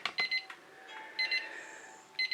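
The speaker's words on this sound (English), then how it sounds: "the timer goes off to tell you that there's 1 minute left of my time" A timer goes off in an acrylic paint pouring workspace, sounding as repeated short high electronic beeps in clusters, with a few clacks and a faint hum underneath.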